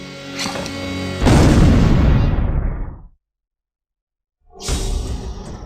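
An explosion welding blast: one loud, close boom erupts and rolls off in a long rumbling decay over about two seconds, then cuts to silence before another broad noise begins.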